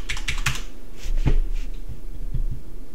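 Password keys tapped on a computer keyboard: a quick cluster of close, crisp clicks, a single heavier keystroke, then a few lighter scattered taps, with no voices.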